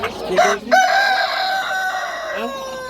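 A rooster crows once in a long drawn-out call at a busy poultry market, fairly close and loud, with a short cluck near the end.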